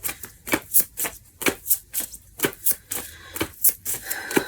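Tarot cards are shuffled by hand in a quick, even rhythm of riffling slaps and flutters, close and crisp, with no talking.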